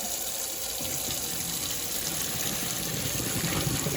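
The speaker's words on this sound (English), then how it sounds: "So we're gonna go ahead and get the cold water going again." Cold water runs steadily from a kitchen tap into a sink, a constant close splashing hiss with no talking.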